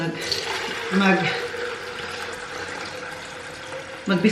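Water poured from a container onto potted plants, a steady running, splashing trickle heard up close under a talking voice.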